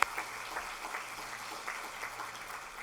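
An audience at a health foundation luncheon claps in a brief round of applause, a dense patter of many hands at moderate volume with no talking.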